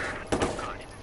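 Gunfire in the video game Watch Dogs 2: a brief burst of shots, fairly close, lasting under a second amid a game soundscape.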